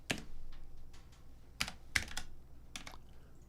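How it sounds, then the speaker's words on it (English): Keys clatter on a computer keyboard in sparse bursts: a few sharp clicks, pauses, then short runs of taps, close and fairly quiet with no talking. "Making me type everything."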